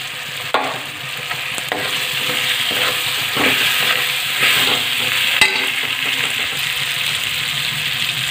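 Mixed vegetables with peas and cauliflower tipped into a pan of hot frying masala, a loud continuous sizzle with stirring scrapes and a few sharp clinks, close up with no talking.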